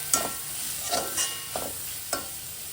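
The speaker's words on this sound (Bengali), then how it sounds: "দেওয়ার পর খুব ভালোভাবে নেড়ে চেড়ে নিচ্ছি" Potato and kundri frying with a poppy seed, sesame and tomato paste, stirred with a utensil in a pan: four or five scraping strokes over a soft sizzle, close and moderately quiet, with no talking.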